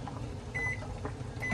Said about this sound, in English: Boil it in the microwave.